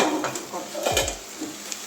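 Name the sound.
frying water spinach (kolmi) greens in a pan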